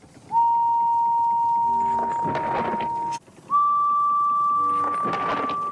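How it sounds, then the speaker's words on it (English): Two long, steady steam whistle blasts, each held for a few seconds with hissing steam underneath, separated by a brief pause. "And she blew her whistle."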